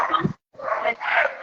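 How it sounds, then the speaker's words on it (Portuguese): A dog in a home kitchen reacts to a cat that has come in, giving a couple of close, sharp barks and yips mixed with whimpering. "O gato entrou aqui, um gato. O gato avançou. Entrou e avançou na minha cachorra."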